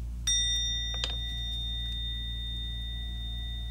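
A small cleansing bell is struck once over tarot cards, giving a bright metallic ring with a sustained tone. A softer second tap follows, and the ring fades slowly over a steady low hum.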